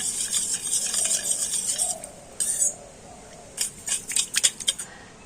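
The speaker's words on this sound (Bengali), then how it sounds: "আর গরম দুধের সাথে ইস্ট আর চিনিটা একটু ভালো করে গুলে নেব" A spoon stirs yeast and sugar into warm milk in a bowl, giving close scraping swirls followed by a string of quick metallic clinks against the bowl's side.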